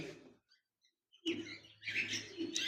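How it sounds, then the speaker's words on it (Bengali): A pair of lutino red-eye cockatiels in a cage give faint chirps and calls, a short sound at first, then near-silence, then a louder burst of chirping. "একজোড়া লুটিনো রেড আই কোকাটেল পাখি রয়েছে"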